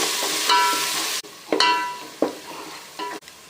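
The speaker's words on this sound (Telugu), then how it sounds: "అల్లం వెల్లుల్లి పచ్చివాసన పోయే వరకు వేయించుకోవాలి" Onions frying with ginger garlic paste and turmeric in oil for mutton pulao, a steady close sizzle broken by several loud scraping stirs of a spoon against the pan.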